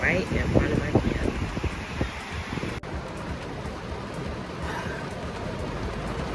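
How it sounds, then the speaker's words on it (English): Heavy rain pours down outside, a dense steady wash of noise with some wind buffeting the microphone, a sharp thump near the middle, and no talking. "It started pouring down outside."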